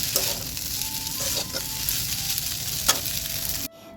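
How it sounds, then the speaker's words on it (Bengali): Jackfruit frying in a pan with Maggi masala, a steady close sizzle running throughout with a few stirring scrapes, cutting off abruptly near the end. "এখন দিয়ে কিছু সময় ভেজে নিতে হবে, 4 থেকে 5 মিনিট এরকম ভাজতে হবে"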